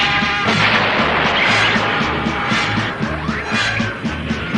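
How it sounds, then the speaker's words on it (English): Viking missile firing in a cartoon, a loud, dense blast of roaring rocket noise and crashing with rhythmic low pulses, steady and close throughout. "Viking missile, fire!"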